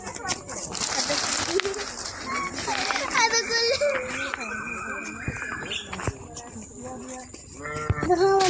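Goats bleat several times in quick succession, close by, mixed with children's chatter and voices in the background.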